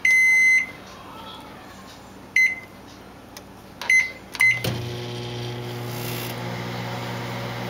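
A microwave oven beeps several times in short bursts, then its fan and magnetron hum start up and run steadily. No talk is heard.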